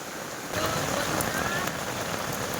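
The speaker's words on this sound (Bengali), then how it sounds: "দেখো কিরকম পরিমাণে বৃষ্টি হচ্ছে।" Heavy rain pours steadily onto the ground and a courtyard in the Sundarbans, a dense, even hiss of drops with no voices.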